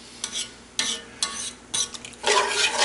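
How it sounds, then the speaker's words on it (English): A utensil scrapes browned bits from the bottom of a Dutch oven while deglazing for sauerbraten, producing four distinct rasping strokes over a low simmer and a longer bubbling sizzle at the end. "I'm going to try and scrape off the brown bits from the bottom of the Dutch oven. This is deglazing the pan."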